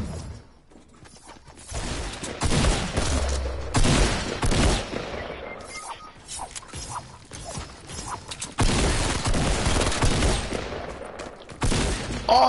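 Gunfire from a PS4 online shooter game, dense bursts of shots and fusillades crackling throughout at close range, with loud volleys rising and falling over about twelve seconds.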